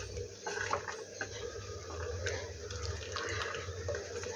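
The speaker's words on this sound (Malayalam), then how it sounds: "കുറച്ച് വെള്ളം കൂടി ഒഴിച്ച് ഒന്ന് ലൂസാക്കി എടുക്കാവുന്നതാണ്" Water is poured into curd while making pulissery, a close, splashy trickle that runs unevenly for a few seconds in a kitchen.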